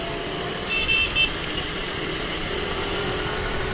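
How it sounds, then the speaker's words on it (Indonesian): A Yamaha Lexi 155 LX scooter rides through Jakarta traffic toward a flyover. Steady road and wind roar dominates, with a brief horn-like tone near the start and no talking. "Jadi untuk kendaraan yang digunakan untuk sampai saat ini adalah Yamaha Lexi 155"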